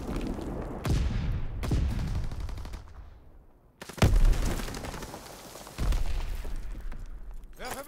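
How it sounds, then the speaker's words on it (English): Fritz X bomb strikes in the multiplayer video game Call of Duty WWII: several heavy booming blasts land one after another, loud and close, mixed with rattling gunfire and decaying rumble between impacts. "Dropping Fritz X bomb."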